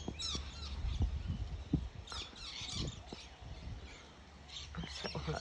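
Lorikeets call from the trees in short, high chirps and squeaky bursts, scattered and fairly faint, over a low outdoor background hum.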